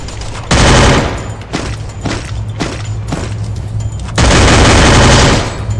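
Gunfire in the video game Free Fire, with loud close bursts of rapid automatic fire, a long burst at the start and another near the end, separated by single sharp shots.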